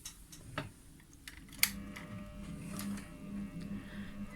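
A sewing machine stitching the neckline of a wrap dress, close mechanical ticking and a rapid running whir from mid-clip onward after a few small clicks and handling sounds.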